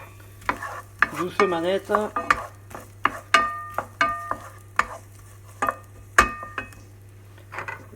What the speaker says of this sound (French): On revient à notre beurre. On va y mettre des oignons.